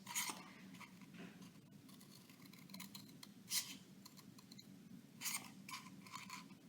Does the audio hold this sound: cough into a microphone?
no